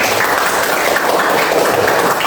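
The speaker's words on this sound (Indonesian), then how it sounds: "Oke, tepuk tangan semua." A fifth-grade classroom of pupils claps hands together in a loud, dense burst of applause that holds steady and close for a couple of seconds.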